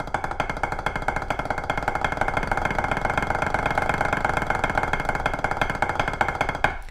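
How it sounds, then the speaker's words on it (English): Drumsticks play rapid three-stroke patterns on a Vic Firth Quadropad, a dense, even stream of close, crisp taps that continues steadily throughout without speech. "So if we're playing, like let's say 3 strokes."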